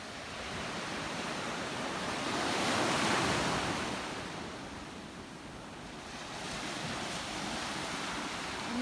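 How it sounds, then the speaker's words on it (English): Ocean waves wash onto a beach at sunset, a steady broadband surf roar that swells to a peak partway through, then eases and builds again, with some wind buffeting and no voices. "Hopefully you guys can hear a little bit of the waves."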